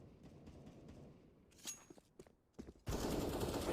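Bursts of CS:GO gunfire during a competitive match exchange, scattered single shots and short volleys, then a dense, loud sustained barrage of automatic fire with footsteps faintly beneath.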